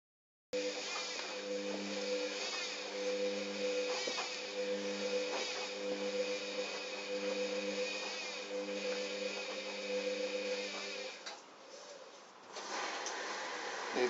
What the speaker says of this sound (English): the washing machine has started working.